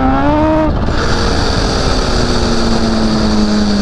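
Kawasaki Ninja H2, a 300 hp supercharged motorcycle, on light throttle: a loud, steady engine drone with a tone that dips briefly, then holds a smooth whine over heavy wind rush, with no talking.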